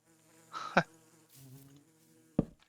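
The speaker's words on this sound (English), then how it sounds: "Oh, and there's a diamond bee." A diamond bee from the Productive Bees mod in modded Minecraft buzzes in short bursts, a close insect drone rising and fading a few times with quieter gaps between.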